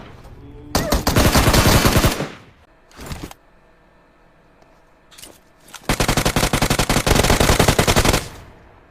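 Loud automatic rifle bursts in a video game shootout: a long rapid spray, a brief short burst and a faint shot, then another sustained volley of fast shots.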